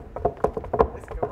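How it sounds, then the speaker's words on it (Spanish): Horse hooves clip-clop as a sound effect in a Spanish-language radio drama, a quick rhythmic run of hollow knocks at moderate level with no speech over them. "los efectos de sonido son ese caballo"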